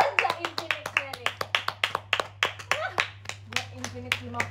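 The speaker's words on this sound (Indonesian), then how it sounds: "Coba tepuk tangan." Hands clapping in a steady, fairly quick rhythm, about twenty sharp close claps in a few seconds, over a constant low hum during a livestream, with a voice briefly joining near the end.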